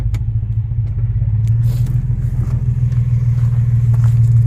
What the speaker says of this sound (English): Still misfiring.